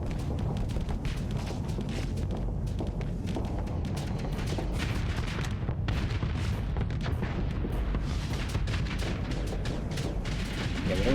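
Dense, continuous barrage of missile fire and booming ship explosions from the Starsector space combat game, loud and sustained throughout with overlapping blasts and rumbling low end.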